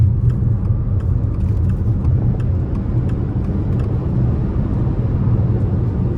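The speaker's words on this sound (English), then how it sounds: "So we're going to try and give it a nice punch here, coming around this corner." A 2024 Subaru Solterra Limited electric car accelerates through a corner, giving a steady low cabin rumble of road and tire noise with a faint whine, loud and continuous without talk.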